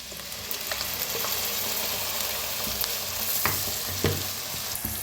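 Mint paste and onions fry in hot oil in a pan for an egg curry, giving a steady close sizzle. Occasional scraping stir strokes and soft knocks sound over it, with no talking.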